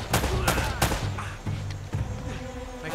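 Rapid bursts of gunfire in a shootout in the video game Uncharted: Drake's Fortune, dense overlapping shots and impacts over a busy game mix.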